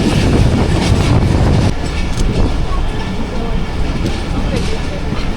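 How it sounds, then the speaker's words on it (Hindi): The Rehman Baba Express rolls through Shahdadpur without stopping, a loud steady rumble with clickety-clack of wheels on rails, heard from close by. "शाहदादपुर से ट्रेन हमारी पास हो रही है।"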